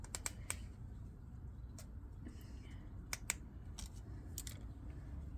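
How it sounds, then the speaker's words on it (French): Scissors cut through a strip on a Honda 125 Varadero motorcycle, giving a handful of sharp, crisp snips spaced irregularly over a quiet room background. "J'espère que ça va aller avec ce ciseau."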